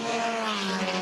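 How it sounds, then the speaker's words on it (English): An orange and blue LMP3 Ligier race car at the 2023 Chevrolet Grand Prix speeds past with a loud, sustained high-revving engine whine, its steady tone sliding slightly as it passes close by. "That was the LMP3 Riley, the Ligier that Shea was talking about, the Ranch 74 orange and blue car that got out ahead of the leader."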